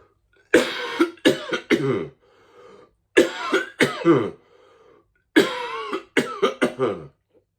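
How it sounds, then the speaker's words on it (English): Three separate bouts of hacking coughs, each a quick series of three or four harsh coughs, loud and close with short pauses between. "A persistent cough, one of the symptoms of coronavirus"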